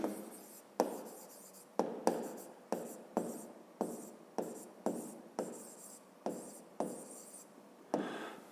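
Writing on a board during a physics lesson, a quiet, steady series of about a dozen short scratchy strokes, each starting sharply and fading, with brief pauses between them.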